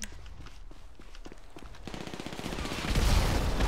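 Video game gunfire in GTA V crackles as rapid bursts and scattered shots, growing denser and louder toward the end, with no speech heard.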